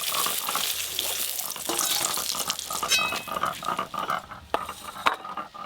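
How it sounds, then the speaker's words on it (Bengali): Small eggplant pieces fry in hot oil, giving a busy crackling sizzle close by with occasional clinks and scrapes of a utensil turning them. "বেগুনগুলো একদম হালকা করে ভেজে নিয়েছি"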